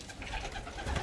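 Racing pigeons coo softly in a brief, low murmur, faint and somewhat distant, with no voices present.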